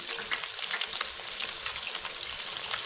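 Large chicken pieces deep-frying in hot oil, giving a dense, continuous crackling sizzle with bubbling pops, steady and close, with no talking.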